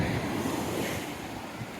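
Steady wash of sea surf at the Vattakottai fort beach, with water on both sides of the fort, under rushing wind noise on the microphone, loud and continuous.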